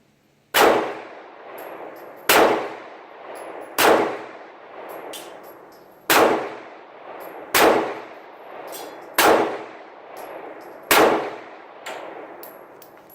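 Ruger LC9 pistol shots ring off a steel target, seven sharp clangs spaced one to two seconds apart, each decaying with a metallic ring.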